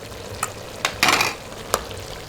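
Tamarind stirred into a simmering Cambodian duck soup in a pot, a steady scraping and sizzling swirl with a few sharp utensil knocks against the pan, close and alone.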